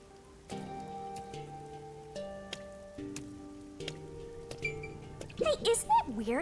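Constant rain falls over the streets of Kanai Ward in the video game Rain Code, a soft, steady patter beneath gentle melodic music, with a voice rising near the end.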